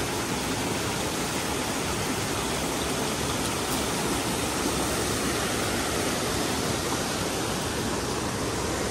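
A Himalayan mountain stream at Labdah Busty in Darjeeling rushes past in a steady, dense roar of flowing water, loud and unbroken throughout with no voices.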